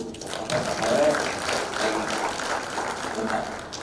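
Audience applause at an open plenary meeting of the Lahat regional election commission, a steady wash of clapping that holds for a few seconds with some background voices mixed in.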